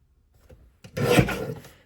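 Paper being cut for a scrapbook page kit: a few soft taps, then a single close rasping slide of the cutting blade lasting about a second.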